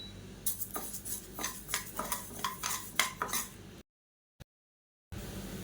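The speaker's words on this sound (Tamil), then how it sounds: "இதை வந்து நல்லா வறுத்துக்கலாம்." Half a cup of moong dal is roasted in lightly heated oil in a pan while a utensil stirs it, producing steady close scraping and clinking strokes that stop abruptly into silence before resuming.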